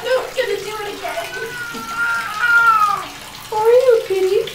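Water pours and splashes steadily off a cat being bathed in a tub, running close and loud, with the cat's drawn-out meows and wails rising over the flow.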